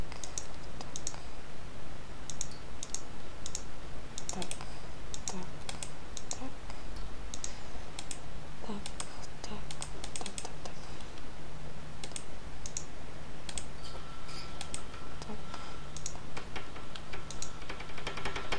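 Steady typing on a computer keyboard during a survival game session, quick irregular key clicks running throughout over a constant low hum, with no talking.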